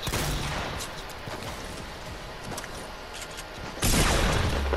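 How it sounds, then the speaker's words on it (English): Minigun fire in the battle royale game Fortnite, a dense, continuous rattle of rapid shots at moderate distance, then a louder burst near the end. "They have a freaking minigun?"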